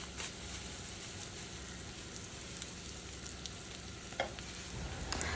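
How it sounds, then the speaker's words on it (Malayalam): About one and a half teaspoons of nigella seeds fry in oil with onions, giving a soft, even sizzling hiss with a few light stirring clicks, fairly faint throughout. "കരിഞ്ജീരകം ആ ഒരു എണ്ണയിൽ കടന്നൊന്ന് മൂത്ത് വന്നോട്ടോ കേട്ടോ"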